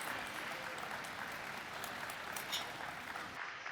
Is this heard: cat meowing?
no